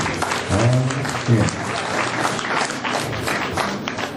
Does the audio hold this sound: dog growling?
no